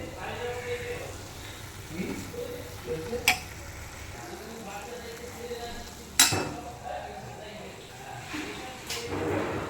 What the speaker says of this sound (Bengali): এখন ভাজছি কলমি শাক